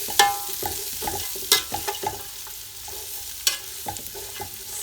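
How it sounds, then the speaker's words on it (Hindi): Shredded cabbage is stirred and fried in hot oil with cumin, a spoon clattering and scraping against the pan in irregular strokes over a soft, steady sizzle. "मैं इसमें डाल रही हूँ ये बंद गोभी और हम इसे मिक्स कर लेते हैं।"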